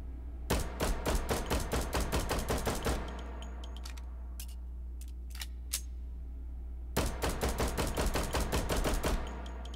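Rapid strings of USP Compact pistol shots in the VR game Hot Dogs, Horseshoes & Hand Grenades, two fast volleys of sharp cracks separated by a few scattered single shots and mechanical clicks, loud and near.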